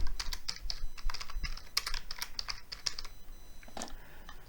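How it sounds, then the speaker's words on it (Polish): Quick, irregular clacking of keys on a computer keyboard as a title is typed in, close and fairly quiet, with short pauses between bursts of keystrokes. "Wpisujemy tytuł naszego filmu"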